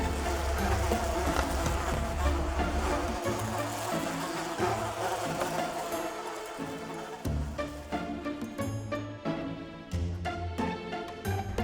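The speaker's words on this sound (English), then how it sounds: "4 million wasps flew into town." A dense, continuous buzzing drone of a huge wasp swarm filling the whole stretch, steady and loud with slight swells and rustling texture.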